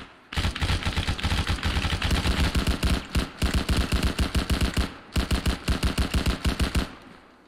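A .50 cal machine gun in the video game Arma 3 fires three long, loud, evenly paced bursts of heavy thudding shots, with short pauses between them.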